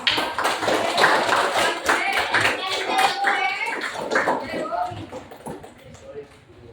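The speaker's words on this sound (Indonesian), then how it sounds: "beri tepuk tangan untuk kelas" A school class clapping hands in a classroom, a lively burst of claps mixed with children's voices and shuffling, tapering off toward the end.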